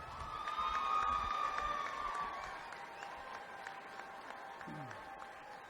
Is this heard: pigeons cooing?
no